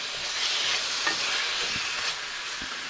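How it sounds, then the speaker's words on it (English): Shrimp fry in a hot pan with a steady, bright sizzle, close and constant, broken by a few soft clinks and stirring sounds. "it's already kind of sizzling, I'm just going to go ahead and dump these in"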